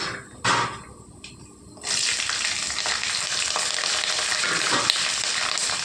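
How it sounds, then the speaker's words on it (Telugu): Green chillies hit hot oil for mango pulihora, a sharp bursting sizzle after a brief quieter moment, settling into a loud, steady frying hiss close up. "ఇప్పుడు మనం ఇందులో పచ్చిమిరపకాయలు వేసుకుందాం"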